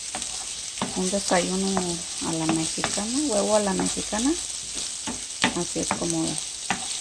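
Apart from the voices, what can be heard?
frying tomato, serrano chili, onion and cilantro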